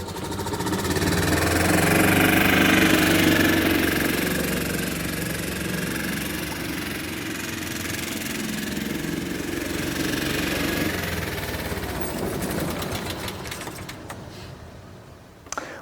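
A 1999 Club Car golf cart's gas engine runs steadily at idle, a continuous mid-pitched rumble with a slight knock that holds for most of the stretch before fading toward the end; no one speaks.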